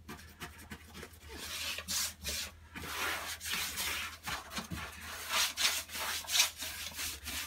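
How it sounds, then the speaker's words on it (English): Acrylic primer undercoat being brushed onto dark brown plywood, a soft repeated rubbing and swishing of bristles in steady back-and-forth strokes, close and fairly quiet with no talking. "I'm trying to spread it out a bit so you can see that I'm not putting loads on."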